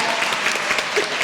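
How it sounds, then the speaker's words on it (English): An audience applauds panelists at a women's empowerment panel with brief, dense, steady clapping throughout. "Please, a round of applauses for our amazing panelists."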